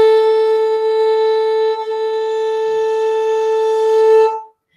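A single violin note bowed steadily with a lightly held, balanced bow, clear and sustained with a rich ring of overtones, alone and close, ending abruptly after about four seconds.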